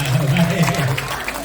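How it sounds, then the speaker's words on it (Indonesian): Audience applause during a training session, a short steady wash of clapping from a seated crowd, fairly close and continuous with no voice over it. "Oh luar biasa, tepuk tangan dulu buat Anda."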